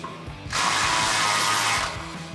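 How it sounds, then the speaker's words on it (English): A hand ratchet fitted with a socket clicks in one quick, close burst of about a second and a half while tightening the hardware on a Barricade HD plate-style full-width front bumper on a 2021-2026 Ford Bronco. "We're going to use our 5mm Allen socket on our ratchet and a 13mm socket on our other ratchet."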